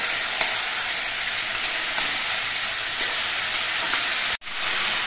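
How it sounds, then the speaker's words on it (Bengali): Salted vegetables for a bhola fish chorchori fry over a high gas flame, a loud continuous hiss and sizzle as the released water boils off, with faint stirring ticks and a brief dropout near the end. "এবার সবজিগুলো ভেজে নিতে হবে আর এই জলটা শুকিয়ে ফেলতে হবে।"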